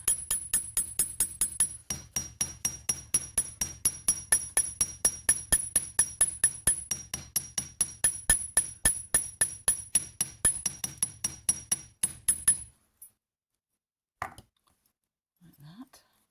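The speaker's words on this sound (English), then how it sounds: "I'll hammer from this side. It'll make those bits smoother" Rapid metal hammering on a copper Viking-style penannular brooch, dozens of sharp ringing strikes in a steady fast rhythm, close and loud, stopping abruptly near the end with a few faint handling sounds after.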